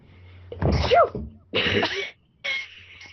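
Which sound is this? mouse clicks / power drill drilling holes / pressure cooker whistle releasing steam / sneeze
sneeze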